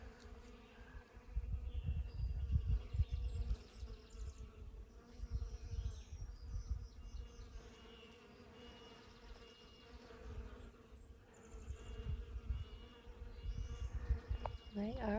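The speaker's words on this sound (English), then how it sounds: "Can you hear all the bees?" Many bees buzz steadily along a forested stretch of the Appalachian Trail between Tri-Corner and Davenport Gap Shelter. The droning swells and fades as they pass nearby, over soft low rustling.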